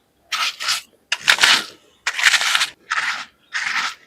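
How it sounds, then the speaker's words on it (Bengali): Toast is crushed on a stone grinding slab in five separate bursts of dry, close crunching, each with short pauses between them. "এগুলোকেই একটু শিলনোড়াতে গুঁড়ো করে নেবো। হালকা করে চাপ দিলেই কিন্তু ভালোভাবে গুঁড়ো হয়ে যাচ্ছে।"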